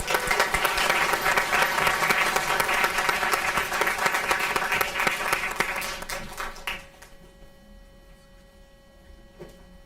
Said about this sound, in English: All right, how about another round of applause?